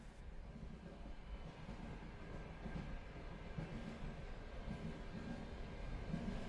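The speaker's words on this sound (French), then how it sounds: "Quelques secondes plus tard, le train démarre et quitte la gare." A train rolls out of a station, its low rumbling wheels and carriage noise steady and continuous throughout, with faint clatter and no voices.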